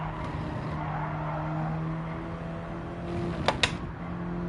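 A race car engine in Gran Turismo 7 drones steadily with a sustained tone, joined near the end by tire noise and two sharp clicks.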